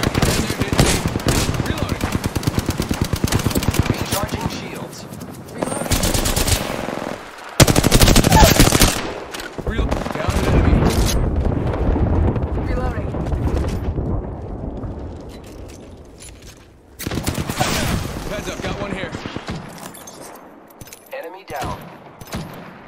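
Gunfire in Apex Legends season 5 during a fight: dense, rapid automatic bursts rattle almost continuously, broken by brief pauses and a few heavy blasts, with occasional voice callouts underneath.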